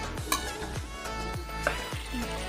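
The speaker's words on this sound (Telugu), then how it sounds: "పచ్చివాసన పోయే వరకు ఇలా వేయించుకోవాలి కాస్త" Masala ingredients fry and sizzle in a pan for dhaba-style chicken, with a soft steady hiss under repeated stirring scrapes about every half second and occasional light metal clinks.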